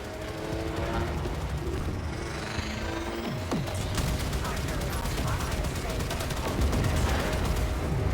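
Gunfire and torpedo launches in the Warframe video game pour out as a dense, continuous barrage of rapid shots and bursts, with sweeping tones and a voice mixed into the battle noise.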